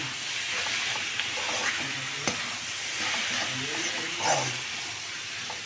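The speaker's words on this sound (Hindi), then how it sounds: "इधर बन रहा है हमारा शाही पनीर का मसाला। प्याज और काजू बन रहा है अभी।" Onions and cashews frying in a pan for shahi paneer masala in a busy kitchen, a loud, steady sizzle with occasional stirring clatter, close and continuous.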